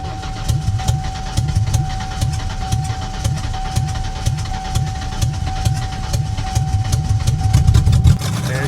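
A 1991 Mercury Cougar runs just after starting with its catalytic converter cut off. A loud, rough, low idle throbs with a steady pulsing rhythm close to the listener, and a faint steady whine sits above it.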